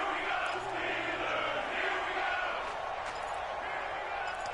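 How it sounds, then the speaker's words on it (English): A big American football stadium crowd roars late in the fourth quarter of a Steelers versus Falcons game, a broad sustained wash of cheering heard from a distance without clear speech. "the crowd getting into it as we come up on a big 3rd down"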